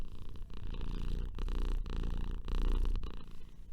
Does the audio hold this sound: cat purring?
yes